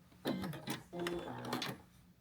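Sewing machine fitted with a 1/4 inch foot running through quilt fabric in two short bursts of rapid whirring, close by, with a person talking over it.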